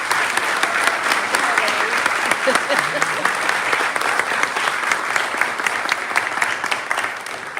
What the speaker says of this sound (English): can we please give another applause to my tias